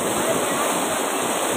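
The flooded Sisarma river, swollen to about seven feet, roars as a steady, dense wash of rushing water, loud and unbroken throughout.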